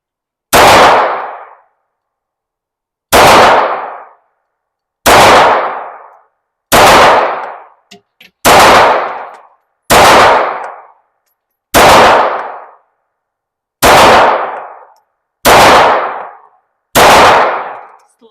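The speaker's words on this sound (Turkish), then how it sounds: "Tetiğe bastığımız andan itibaren silahımız patlayacak." Ten loud gunshots ring out at an indoor shooting range in Ankara, each a sharp close blast with a short decaying tail, spaced about two seconds apart in a steady rhythm, with no talking in between.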